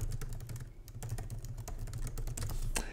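Fast, steady typing on a computer keyboard while entering code documentation for a Swift iOS app, dense clicking keys running continuously at close range over a low background hum.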